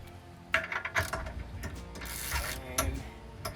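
A 15/16 socket ratchet clicks and clanks while loosening bolts on an Andersen Ultimate Connection 5th wheel hitch, irregular metallic rattles and clunks close by.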